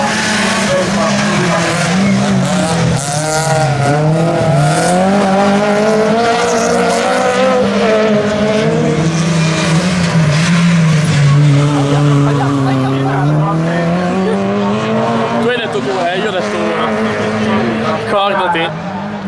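Super 1600 rallycross cars racing in the Italian TRX rallycross championship, engines droning and rising loudly throughout with tire noise, a commentator's voice running underneath.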